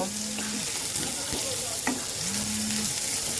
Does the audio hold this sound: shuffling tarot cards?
no